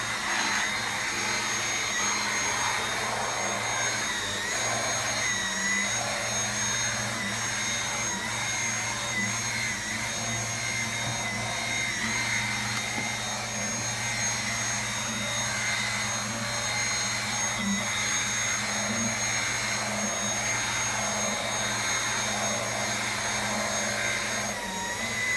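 Dyson V8 Absolute cordless vacuum cleaner running steadily, a loud constant high-pitched motor whine with an airy suction roar, close and unbroken for the whole stretch, with no talking.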